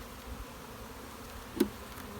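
Honey bees buzzing around hive frames while a hive is being split, a steady low hum filling the background with one brief louder rise near the end.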